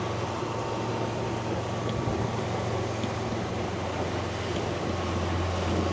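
A small boat planes fast under an electric outboard motor, water spray hissing and wind rushing in a dense, steady roar with a low motor hum beneath.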